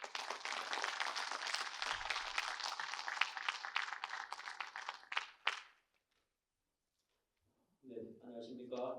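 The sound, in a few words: audience applause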